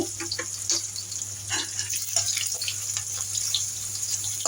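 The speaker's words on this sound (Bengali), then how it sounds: "তো এখানে আমি আস্ত জিরাগুলো এখন দিয়ে দিচ্ছি" Whole cumin seeds frying in hot oil with onions in a pan, a continuous bright sizzle with scattered crackles and pops, close and steady throughout.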